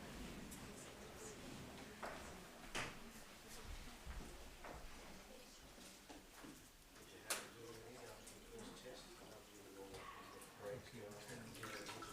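Water is poured over a person's hands in a Buddhist New Year blessing, trickling and splashing softly and intermittently at low volume while voices murmur nearby.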